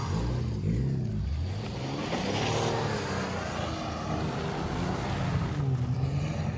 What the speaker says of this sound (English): Chris is doing donuts way over there.